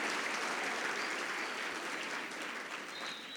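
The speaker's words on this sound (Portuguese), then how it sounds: "pode aplaudir que tem mais" Steady, dense applause from a church congregation during a sermon, filling the whole stretch loudly and evenly with no voice over it.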